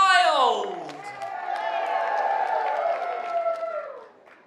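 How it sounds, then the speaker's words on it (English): A crowd cheers, whoops and applauds at the main stage show on the Eurodam cruise ship's opening night. A loud rising whoop opens a steady roar of cheering voices that fades near the end. "And the crowd went wild."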